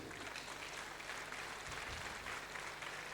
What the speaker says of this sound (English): Please, let's clap for the youths, please.